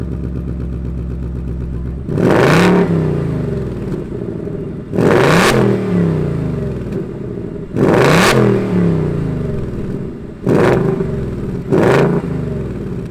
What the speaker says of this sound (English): It's nice to talk about a V8 engine. Let's go ahead and have a little bit of an eargasm and fire this up.